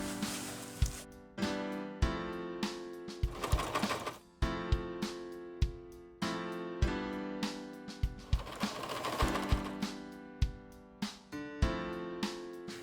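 Sewing machine stitching Velcro onto pants during a tapering job, running in repeated bursts of rapid mechanical clatter with short pauses and sharp clicks between stretches of stitching, close and steady.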